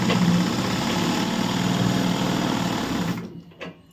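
A treadle sewing machine runs steadily with a close, continuous mechanical whir and rhythmic rattle for about three seconds, then slows and stops, leaving a few faint clicks.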